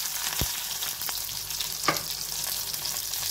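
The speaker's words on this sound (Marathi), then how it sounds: "जिरं चांगली तडतडली की मग मिरच्या घालते" Continuous hiss of cumin seeds and green chilies frying in hot oil, punctuated by a few sharp pops and crackles.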